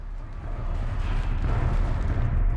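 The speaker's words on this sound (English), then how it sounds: "explosions coming our way." Rumbling explosions from combat against a hostile machine in the PC game Horizon Zero Dawn, a dense low roar that swells and stays loud throughout, with no talking over it.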